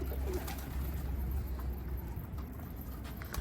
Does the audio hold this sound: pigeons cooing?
yes